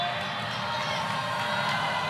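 A volleyball crowd on its feet at an ACC match between Louisville and Georgia Tech roars in a continuous, dense wall of cheering and whooping that holds steady throughout.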